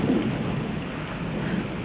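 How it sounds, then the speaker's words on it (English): Thunder rolls as a continuous, loud, broad rumble during a storm, with rain noise mixed in, heard close and without any voices. "That's only thunder."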